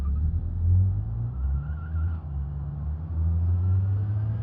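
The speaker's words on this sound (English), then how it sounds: "this van with 80 horsepower doesn't accelerate the fastest" Simulated engine of an 80-horsepower van in a car-building game, a steady low rumbling drone as the van drives and slowly accelerates, with a faint rising whine over it.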